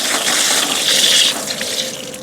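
Water from an outdoor spigot, opened fully while starting up an inground sprinkler system to purge air, gushes in a loud, steady, hissing rush for about two seconds with no other sounds.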